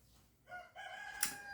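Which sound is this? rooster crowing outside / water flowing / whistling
rooster crowing outside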